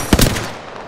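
A weapon fires in Apex Legends as two close, loud, punchy shots in quick succession, with a short decaying tail after them and no talk.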